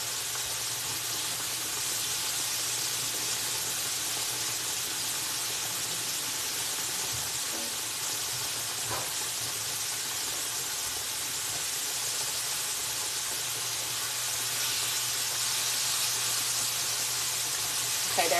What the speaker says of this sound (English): Okay, they're frying pretty nice.